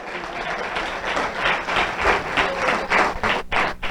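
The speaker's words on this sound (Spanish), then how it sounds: "Denle el aplauso fuerte al Señor, por favor." A church congregation claps loudly and steadily in response to a pastor's call, a dense, sustained wash of many hands lasting several seconds, with a brief dip near the end.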